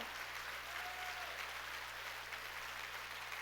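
Church congregation applauds during a sermon, a steady, even wash of many hands clapping in a large room, moderately faint, with a low hum underneath.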